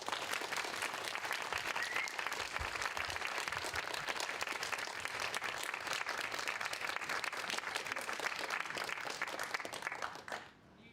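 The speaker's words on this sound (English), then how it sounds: "please give a very warm round of applause to our special guest" Warm audience applause welcoming a special guest speaker at an evening talk, dense sustained clapping from a large crowd lasting about ten seconds before fading out abruptly.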